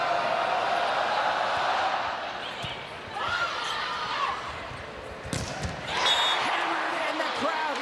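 A crowd roars at an indoor volleyball match, with swelling cheers and arena noise, a sharp ball strike partway through, and a commentator talking over it.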